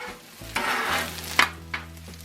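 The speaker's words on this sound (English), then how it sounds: "So I got to chop it up with the spatulas." Metal spatulas scrape and clack against a hot Blackstone griddle, chopping rice for jambalaya over a steady sizzle, with a few sharp chopping hits standing out.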